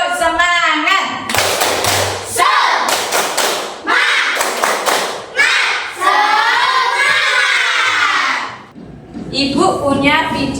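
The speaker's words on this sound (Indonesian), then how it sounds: "Kita melakukan tepuk semangat dulu" A classroom of fourth-grade children doing a rhythmic spirit clap, loud bursts of clapping in patterned groups alternating with children chanting and shouting along, close and energetic.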